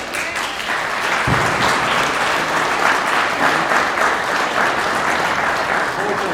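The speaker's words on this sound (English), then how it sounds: "Let's give them a round of applause." Audience at a live debate on plastic-to-fuel in Chicago claps, steady dense applause held at full strength throughout with a faint crowd murmur underneath.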